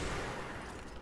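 Dense burst of gunfire from the Control video game, a continuous loud rattle of shots lasting about a second with no pauses.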